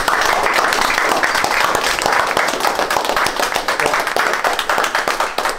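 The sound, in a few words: team players applauding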